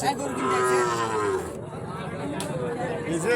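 Sahiwal cattle at a busy cattle market moo in a couple of drawn-out, close calls while people chatter in the background.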